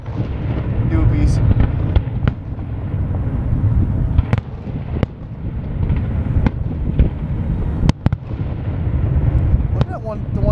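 Fireworks burst over a boat on Toms River in New Jersey, a rolling series of booms and sharp cracks at irregular intervals over a rumbling background, with people talking throughout.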